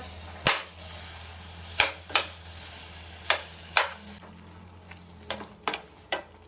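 Spoon pressing and mashing boiled sweet potato in a bowl, a series of sharp clacks and scrapes at irregular intervals, close and moderately loud with no talking.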